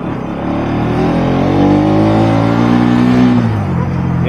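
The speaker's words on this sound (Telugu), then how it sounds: "ఇంకా ఒక రెవ్ ఇచ్చి చూద్దాం." A 2023 Bajaj Pulsar NS200 motorcycle engine revs up close and loud, rising smoothly in pitch to a sustained high rev before easing back down, with no talk over it.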